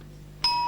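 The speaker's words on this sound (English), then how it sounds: "that's the bell just saying that he's got 30 seconds to complete the lift" At a 1997 world weightlifting championship in the 83 kg class, a single sharp electronic warning bell sounds for 30 seconds left, a clear bright ring that holds steady after sudden onset, over faint hall ambience.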